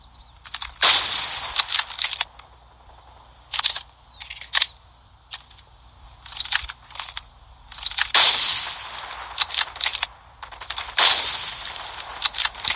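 Bursts of rifle fire from a new weapon in Call of Duty Mobile ring out in several rapid volleys separated by short pauses, loud and close, with no talking over them.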